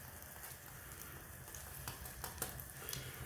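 A patty melt frying in a pan just after being flipped, a faint steady sizzle with occasional soft pops and crackles, heard alone without speech.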